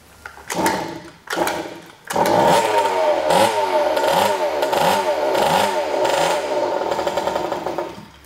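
A small carburetted two-stroke Go-Ped SHR scooter engine sputters a couple of times, then catches and revs loudly in rising and falling pulses, close by.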